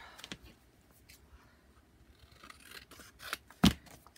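Scissors trim folded paper for a junk journal booklet, with a few soft snips and rustles building to one crisp, close cut near the end, quiet and without voices.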